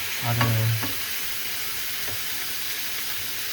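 Carne asada meat and onions fry in a pan with a steady, even sizzle; a brief low hum rises near the start, then the hiss continues alone.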